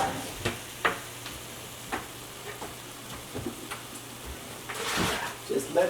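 Turkey taco filling for spaghetti squash boats cooking in a pan, a soft sizzle under intermittent scraping and clinking from stirring, with a louder burst of sizzle near the end.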